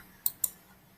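Two sharp, close computer mouse clicks in quick succession, crisp and isolated against a quiet background, followed by near silence.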